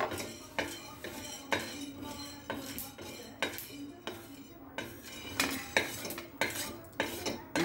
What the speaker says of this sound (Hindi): ये शाह जीरा भून लेंगे। और इसी तरह से काली मिर्च के दाने